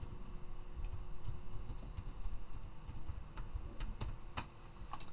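A computer keyboard clatters as a password is typed, with quick irregular keystrokes tapping nearby at moderate loudness and no talk.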